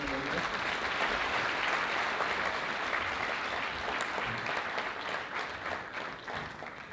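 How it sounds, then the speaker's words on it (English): At a school Founders' Day ceremony, an audience claps together in warm, sustained applause that fills the hall, dense and even before slowly thinning toward the end. "Give them a round of applause"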